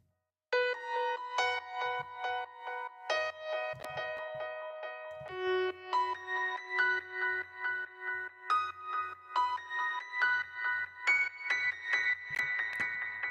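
Piano with parallel reverb and delay, lows and some mids stripped out, leaving thin, bright chords and single notes that ring into a washy echo tail, steady and alone.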